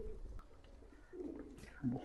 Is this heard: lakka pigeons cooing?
yes